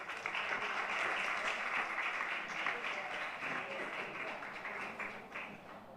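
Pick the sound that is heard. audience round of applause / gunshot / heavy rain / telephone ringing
audience round of applause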